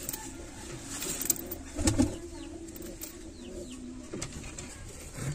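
Kalshira breed pigeon cooing, soft repeated low coos with a few chirps and wing sounds nearby, moderately close in a quiet setting.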